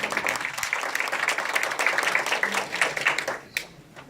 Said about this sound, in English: So Joe, give him a round of applause.